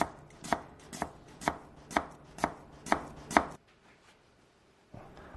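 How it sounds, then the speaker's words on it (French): A small paring knife slices a shallot on a chopping board in eight steady, evenly spaced close chops, then a pause and one more cut. "on va couper notre échalote sans aller jusqu'à la racine"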